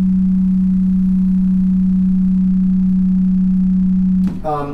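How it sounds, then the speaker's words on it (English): Layered synthesized tones built from six sine waves merge into one steady, loud low hum that holds unchanged for about four seconds, then cuts off as a voice begins talking. "So this is basically made from 6 sine waves,"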